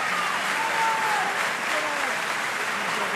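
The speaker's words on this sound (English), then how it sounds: "And Halamemos gets the applause of the crowd here" A crowd applauds at a Wales versus South Africa junior rugby match, a broad continuous wash of clapping with a commentator's voice running over it.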